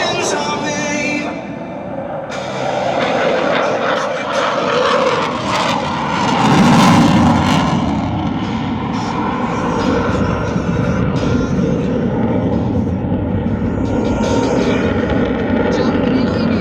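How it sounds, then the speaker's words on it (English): An F/A-18 Super Hornet at an airshow performs a pitch maneuver, a loud, continuous jet roar that surges and swells midway and then holds, with crowd and announcer talk mixed in. "perform a pitch rate demonstration maneuver to showcase the Super Hornet's excellent pitch authority with a brake right 90"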